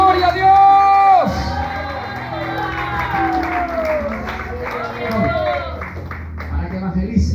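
A church congregation breaks into loud applause and cheering, with whoops and shouts layered over a sustained crowd roar, while a voice rings out above it with sung or shouted praise.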